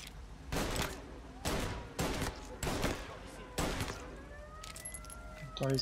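Police sirens close in during a chase in the video game Mafia Definitive Edition, with a rising wail building near the end after several heavy bursts of gunfire.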